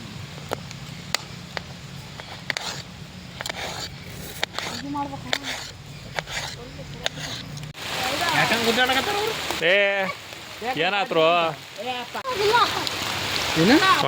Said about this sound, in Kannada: ಮಳೆ ಬರ್ತಾ ಐತೆ